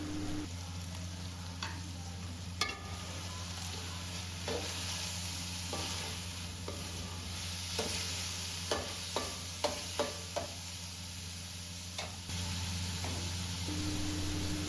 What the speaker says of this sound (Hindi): अब गाजर शामिल करके अच्छी तरह हिलाते जाएं, क्योंकि ये सारा कुछ तेज़ आंच पर पकेगा।